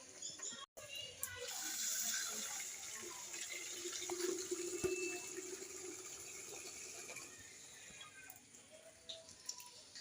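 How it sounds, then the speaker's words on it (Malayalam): Water filling an aquarium, a soft continuous pouring and trickling close by, with faint splashes and handling clatter and a brief voice. "അപ്പം നമ്മൾ ഈ എക്കോറിയത്തിൽ വെള്ളമാക്കിയിട്ട്"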